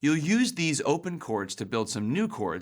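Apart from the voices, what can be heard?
None of the usual background noises is heard.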